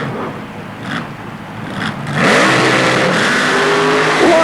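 A four-wheel drive super modified mud racer at an indoor 1991 event in the Superdome, New Orleans, revs loudly, its engine roar building sharply midway and holding strong.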